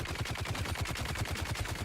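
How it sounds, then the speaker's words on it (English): Rapid automatic gunfire from a Dune: Awakening video game, a steady stream of evenly spaced shots firing continuously, loud and close, with no talking over it. "Go on, start shooting."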